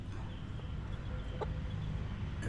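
A mixed-breed fighting chicken clucks softly, with a few short, faint clucks over a steady background hum.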